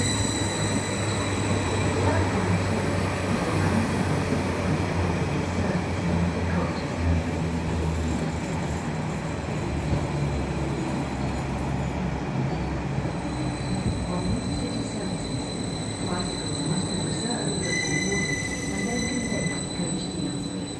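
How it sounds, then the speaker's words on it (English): A Class 745 electric train rumbles steadily close by as it arrives, with a continuous low roar and faint high whine; a few scattered voices are audible under the noise. "Then my train arrived, 745-009."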